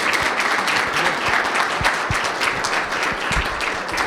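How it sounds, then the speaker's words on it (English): An audience at a Pickerington chamber of commerce candidate forum gives sustained applause, a dense, even wash of many hands clapping throughout. "let's have a round of applause for all our fiscal officer candidates."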